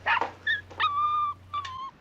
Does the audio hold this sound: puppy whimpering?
yes